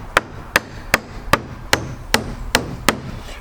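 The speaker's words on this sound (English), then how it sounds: "Sorry, Jerry, if the nailing gets a little loud" Steady, evenly spaced hammer blows driving nails into wood at a cabin, eight sharp knocks about two per second, close and clear.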